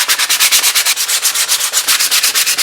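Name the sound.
sanding wooden katana handle with 60 grit sandpaper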